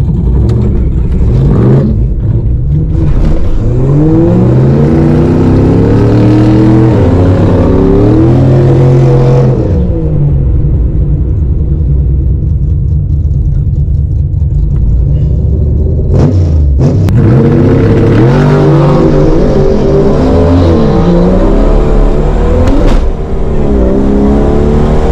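A Jeep XJ engine revs hard as it drives through a barrier. The loud roar climbs and falls, sags briefly midway, then surges again and holds steady to the end, with no voices.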